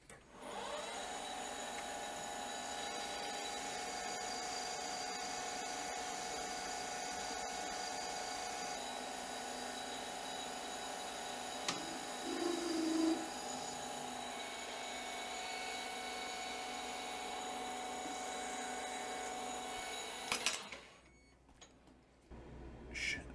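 A metal lathe takes a light final cut on a small part, producing a steady whirring hum with bright tonal whine that runs evenly for about twenty seconds, then winds down with a few clunks near the end.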